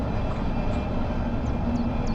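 Metropolitan line S7+1 stock train from Just Trains running between stations, a steady rumbling roll with a constant hum, loud and close, without any talk.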